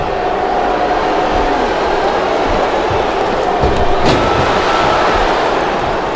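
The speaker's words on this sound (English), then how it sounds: "Man, this crowd is really swelling this guy's head." Steady roar of an arena crowd cheering in the wrestling video game SmackDown vs Raw 2007 on Xbox 360, a dense continuous wash of noise holding at one loud level throughout.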